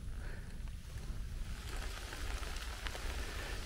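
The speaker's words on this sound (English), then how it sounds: "It started raining, so that's the best time to go home." Rain begins falling in an autumn forest, a soft, steady hiss of drops on leaves with scattered faint patters under a low rumble of wind.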